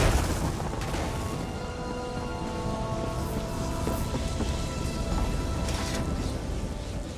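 Lightning spell thunder in The Elder Scrolls Online, a loud continuous crackling roar with rumbling booms, steady and close throughout without a break.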